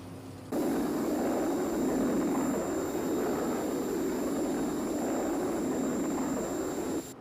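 Steady, loud roar of a Thunderbird 1 jet aircraft approaching London Airport, a continuous broadband engine drone that kicks in abruptly after a brief quiet start and holds level throughout.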